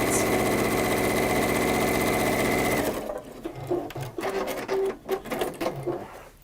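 A sewing machine stitches down fabric seams with a fast, even mechanical whir for about three seconds, then stops, leaving softer handling noises and brief voices.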